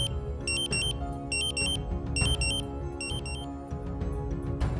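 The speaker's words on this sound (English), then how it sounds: "After a few seconds, the Draeger Pac will activate the alarm." A Draeger Pac gas detector sounds its alarm during a bump test, with rapid bursts of piercing high beeps repeating in quick groups over a low rumbling background, loud and close.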